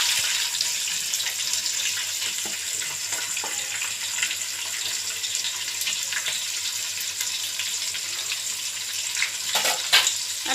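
Chopped onion sizzles in a pan along with bay leaf and chili for a pulao, producing a steady, fairly quiet frying hiss with occasional soft stirring scrapes and no speech.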